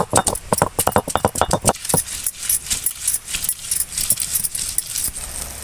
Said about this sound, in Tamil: இஞ்சியும் ஒரு பதினஞ்சு பல் பூண்டும் வெள்ளை பூண்டும் உரித்து வச்சுருக்கோம் இதை தட்டிக்கலாம்